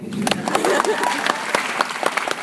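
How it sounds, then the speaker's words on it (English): Scattered clapping from a commencement audience at a high school graduation, sharp individual claps rising briefly over a voice that keeps talking throughout. "You can clap for that."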